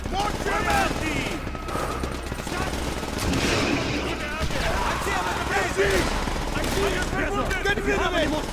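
In Call of Duty Black Ops (Project Nova with World at War sounds), machine gun fire rattles continuously with dense overlapping bursts and distant explosions, under repeated shouted voices of soldiers calling out in English and German.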